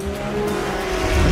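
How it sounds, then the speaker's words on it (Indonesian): A yellow 2023 BMW M4 GT3 race car screams past with rival cars in F1 The Movie, a loud close engine roar with steady tonal whine and tire scrub, building toward the end. "Hayes terus mencoba mengejar lawan yang menggunakan BMW M4 GT3 tahun 2023 berwarna kuning, bahkan sampai membenturkan mobilnya."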